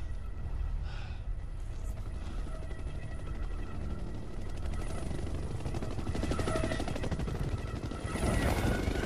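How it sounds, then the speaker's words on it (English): A helicopter in a video game whirs with a sustained rotor chop and engine drone, with faint gunfire-like crackle mixed in and a rising burst near the end, at moderate volume with no talking. "That helicopter was still crashing after all that time?"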